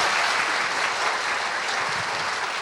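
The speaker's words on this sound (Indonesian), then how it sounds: "Kita berikan sekali lagi aplaus." An audience at an Indonesian television talk show claps together, a dense, loud, steady wash of applause lasting throughout with no other sound standing out.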